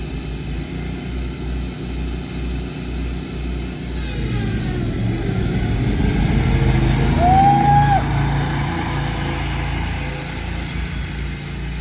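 Gravely Pro-Turn 560 and Hustler X-Ride zero-turn mowers race side by side. Their engines make a steady, close droning roar that swells slightly midway before settling.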